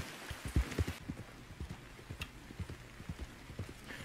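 Horse hooves from riding in the Red Dead Online game: a quick, regular clip-clop of hoofbeats at an even gallop pace, close and clear over a soft ambient wash, with no speech.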